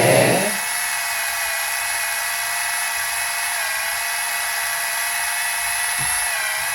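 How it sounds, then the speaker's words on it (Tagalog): Electric nail drill from a manicure and pedicure set whirring at a steady high pitch, a continuous close buzz that holds without a break after a short start, with no talking. "So, gumagana pala siya"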